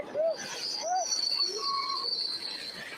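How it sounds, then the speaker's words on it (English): A derailing freight train's rear cars squeal and grind against the rails, with long high-pitched metallic screeches and brief wheel squeals, heard from a moderate distance with no talk. "the back of the train's derailing"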